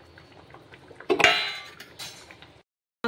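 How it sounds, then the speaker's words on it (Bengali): Fried rui fish pieces drop into a simmering potato and vegetable stem curry in a pot, a sudden clatter and sizzle followed by a fading bubbling hiss, then a brief clink at the end. "এবার তাতে আমি ভেজে রাখা মাছগুলি দিয়ে দিচ্ছি।"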